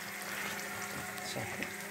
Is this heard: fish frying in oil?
yes